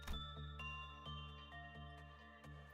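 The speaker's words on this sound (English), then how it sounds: "An invisible bell resounds two pleasant high-pitched rings" High-pitched bell tones from the video game Limbus Company ring out with clear sustained overtones, struck again at intervals so the chimes overlap and fade softly.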